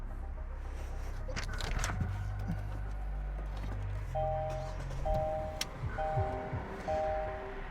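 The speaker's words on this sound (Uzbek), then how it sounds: "Avtomobilimizni bitta yurg'izib, motorlarini bitta eshittirib ko'rsak." A luxury car's engine turns over and settles into a low, steady idle rumble, joined partway through by a series of repeated electronic dashboard chimes.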